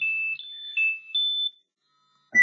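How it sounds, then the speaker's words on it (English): A mobile phone panic alarm sounds on a locked handset as a short series of clear, close electronic beeping tones, then brief silence and a faint click. "And you'll see that my panic alarm has come through, even though the screen's locked."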